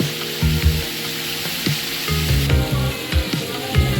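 Food fries in a small amount of oil with a close, steady sizzle, broken by repeated low knocks and scrapes from stirring.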